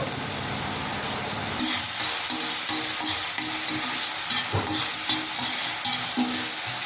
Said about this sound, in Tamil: மசாலாவும் இறச்சி நல்லா பொரிஞ்சு கொண்டிருக்குது